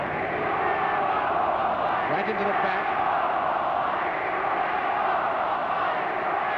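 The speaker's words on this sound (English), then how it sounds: "And the crowd chanting, "We want football, we want football."" A large football crowd at the 1968 FA Cup Final between West Bromwich Albion and Everton roars and chants continuously, a dense wall of sound under a commentator's voice.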